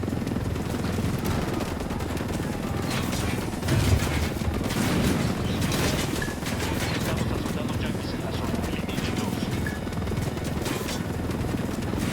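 Gunfire in a video game, a dense, steady wash of rapid shots and rumbling combat noise that continues throughout, with a possible helicopter drone and faint radio-style voices underneath.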